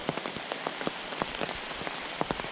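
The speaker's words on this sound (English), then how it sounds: "And of course, it's still raining." Steady rain patters on a surface, with scattered distinct drops tapping through a constant wash of hiss.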